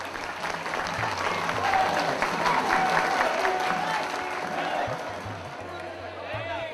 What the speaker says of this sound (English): Come on, clap!